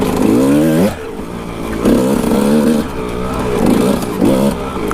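A Kawasaki KX 125 two-stroke dirt bike ridden on a trail, its engine rising and falling through repeated revs and throttle blips, loud and close.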